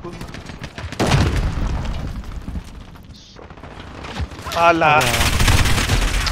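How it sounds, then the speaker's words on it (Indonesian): Gunfire from multiple players in the Call of Duty Modern Warfare beta: bursts of automatic fire and booming shots crackle loudly, with a brief lull before a heavy rapid volley, while someone speaks briefly over it. "berapa ramai orang tembak aku ni"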